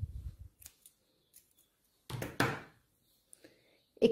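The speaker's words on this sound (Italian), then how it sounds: "Mi fermo qui, taglio il filo" Scissors snipping yarn after finishing a crochet hexagonal kimono cardigan panel: a few short crisp cuts and clicks close by, separated by quiet pauses, with faint handling noises.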